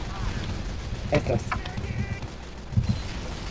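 Gunfire and explosions from the Team Fortress 2 video game, with bombs planted on a wall, sound as a few short bursts of shots and blasts mixed under ongoing talk by players.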